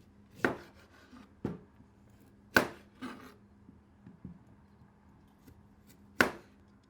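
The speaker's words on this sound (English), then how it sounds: "I'm going to use a knife and cut off the ends first just to make it easier to peel." A sharp knife cuts the ends off beets on a cutting board, giving four or five crisp, separate chops spaced irregularly, close and fairly quiet with no talking.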